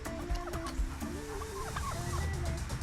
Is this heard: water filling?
no